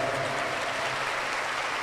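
A church congregation applauds at Sunday Mass, sustained, dense clapping that fills the space evenly throughout, with no speech over it.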